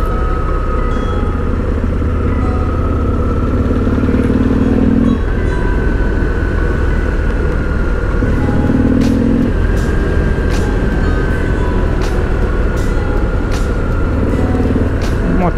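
Small old regional motorcycle ridden past on a curvy road at a motorcycle rally in Sumidouro, Brazil, its engine droning steadily against loud road and wind noise, with faint talk in the background.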